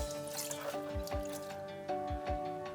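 Water dripping from freshly washed leafy greens set to drain in a colander after three rinses, a few distinct drips falling at irregular intervals over a steady low background.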